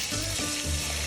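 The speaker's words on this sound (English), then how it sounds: "now we are going to add some water" Water poured into hot, freshly cooked masala in a cooking pan, with a loud steady sizzle and bubbling throughout.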